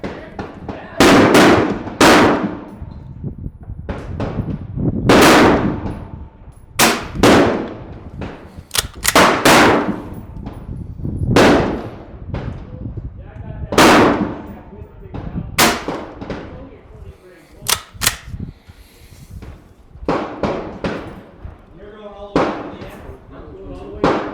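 A PA30 airgun firing Predator Polymag and AEA slugs, a long series of sharp, loud reports at irregular intervals, each ringing out briefly, with someone talking between shots.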